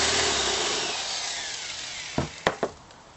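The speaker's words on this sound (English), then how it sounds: "I've drilled a hole." A drill with a 3/8 inch bit whirs through a metal can and slowly winds down, followed by a few sharp clanks and knocks up close.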